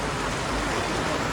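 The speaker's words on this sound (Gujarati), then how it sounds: "પાછો વરસાદ વધી ગયો છે દેખો" Heavy rain pours down steadily in a town street, making a dense, even hiss with no pauses and no voices.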